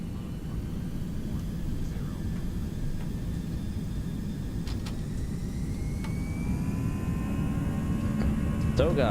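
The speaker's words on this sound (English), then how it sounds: "let's do a rolling takeoff actually, like the Italian way" A ToLiss A319 in the X-Plane 11 flight simulator holds a steady low engine drone as it rolls for takeoff from Lamezia, with faint tonal whines climbing and occasional clicks layered on top.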